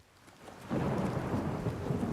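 Rain and thunder in Oblivion Remastered: a soft hiss of rainfall swells into a loud, rumbling roll of thunder over steady downpour, with no voices.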